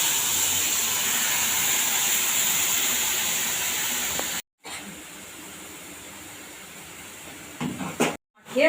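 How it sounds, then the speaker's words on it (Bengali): Steady loud hiss of strained tamarind water hitting hot oil tempered with five-spice (panch phoron), a continuous sizzle that cuts out briefly midway and resumes, with a few sharper bursts near the end. "এই তেঁতুলের জলটা ভালো করে হাতের মধ্যে ছেঁকে এই আস্তে আস্তে করে দিয়ে দিলাম"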